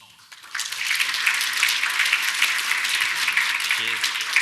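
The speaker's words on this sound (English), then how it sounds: "please everyone give another round of applause to Tom" Audience applause for a speaker named Tom at a talk on taking down a network, a dense, steady wash of many hands clapping that swells in after a brief quiet start and holds loud and even.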